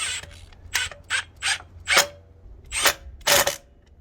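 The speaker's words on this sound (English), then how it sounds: "Now we start screwing things back on." Bolts being tightened back onto a Honda Magna motorcycle carburetor, heard as about seven short bursts of close ratcheting clicks and creaks spaced through the clip, with quiet gaps between them and no talking.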